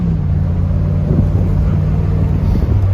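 A 1980 Corvette's V8 engine drones steadily, a low rumbling note close to the car, with a slight shift in pitch partway through as it pulls.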